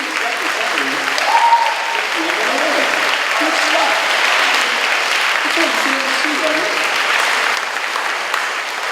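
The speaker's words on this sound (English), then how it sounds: "So let's have a round of applause for him for your representative." Audience applause at a school spring band concert, a steady wash of many hands clapping for the full stretch, with voices talking over it.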